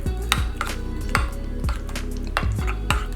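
Spoon scraping and knocking against a bowl while mixing a Greek-style dish with a little lemon, in sharp, regular strokes, close and alone.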